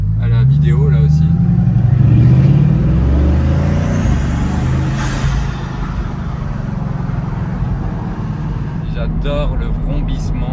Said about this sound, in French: tellement mieux le bruit du moteur de l'intérieur que de l'extérieur